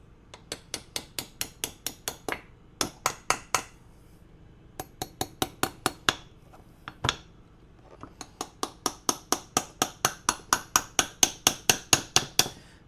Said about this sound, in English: when you're hammering this pin in, you'll hear it bottom out.